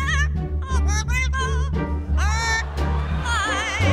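An Amazon parrot talks and squawks in a recording played back, giving bursts of warbling, voice-like calls with wavering pitch that run almost without a break, loud and close over a steady low hum.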